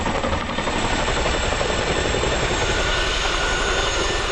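A CH-47 Chinook, a large heavy helicopter with 60-foot rotors, roars overhead in a continuous loud, dense drone of engine and rotor noise, with no voices.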